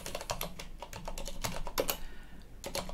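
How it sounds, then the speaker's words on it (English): Rapid typing on a computer keyboard, a quick irregular run of crisp plastic key clicks heard up close, with no voices. "I'm gonna type Spectacle"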